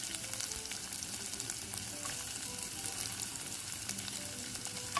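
Ginger and chicken liver sizzle and fry steadily in a hot pan, a continuous close crackle with light stirring scrapes and no talking.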